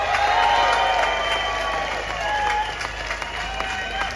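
Crowd applause and cheering at a street protest in London, a broad outdoor wash of clapping under a steady tonal hum and voices, moderately loud and continuous.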